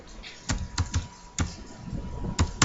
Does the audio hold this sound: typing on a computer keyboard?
yes